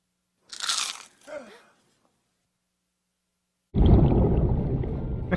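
A loud crunching bite from the video game Feed and Grow: Fish grinds on for over a second. It comes after a short stretch of voice and a pause of silence.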